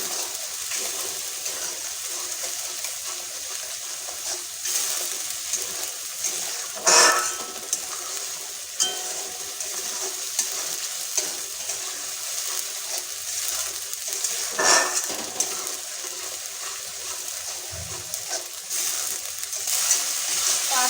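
Spice paste for an egg and hog plum korma frying in a pan, a continuous close sizzle broken by occasional stirring scrapes and soft knocks, with no voices.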